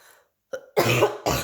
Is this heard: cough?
yes